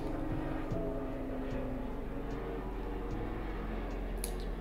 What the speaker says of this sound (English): Pretty loud. It might be a plane, actually.